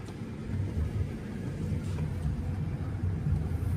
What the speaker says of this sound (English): Lots of cars heading south.